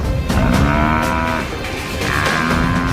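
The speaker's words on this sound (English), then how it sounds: "Buffalo is strong and can wheel around, slashing with his horns, lashing out with his hooves." Loud cattle-like bellowing and grunting from a buffalo fighting off attacking lions, heard close and continuous across the whole moment with rising, strained calls.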